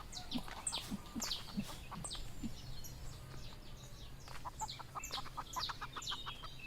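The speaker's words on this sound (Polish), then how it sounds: "tu jest jedna kura" Hens in the Everdream Valley farm game cluck in a run of short, close calls, with a few brighter chirps scattered over a soft, steady background hum.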